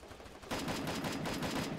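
Gunfire in the Free Fire battle royale game breaks out as a sustained rapid volley of shots, fairly loud and continuous after a short quieter lead-in.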